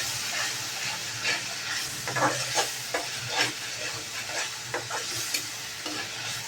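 Tomatoes sauté in oil in a kadhai for a Maharashtrian amti, a continuous close sizzle broken by regular spatula taps and stirring clicks.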